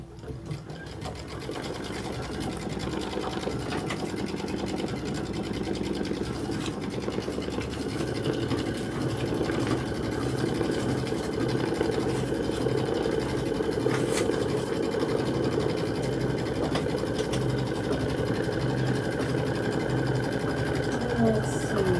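Close and unbroken, an embroidery machine stitches quilting on a Kimberbell jelly tote insert, its fast needle rattle and motor hum holding an even pace throughout.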